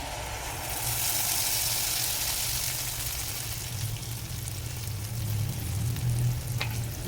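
Appam batter made from idli batter sizzles steadily in hot oil in a pan, a continuous close frying hiss that swells after the first second and stays even throughout, without talk.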